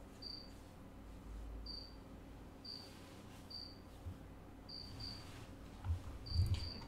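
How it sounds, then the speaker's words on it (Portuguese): A cricket hidden on a roof chirps in short, evenly spaced high trills about once a second, faint and steady over low background noise, with a few soft thumps near the end. "Por que você não vai atrás desse grilo? Ele tá escondido no telhado."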